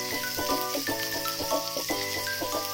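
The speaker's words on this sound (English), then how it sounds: "I have flipped it for the other side to fry." Mutton galouti kebab sizzles and fries steadily in a pan, a continuous close crackle that sits under loud background music throughout.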